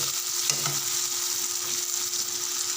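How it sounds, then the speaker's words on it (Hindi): Potatoes fry in hot oil in a pan, giving off a steady, even sizzle throughout, close and fairly loud, with one or two faint knocks early on. "अब 1 से 2 मिनट हम इसे भून लेंगे।"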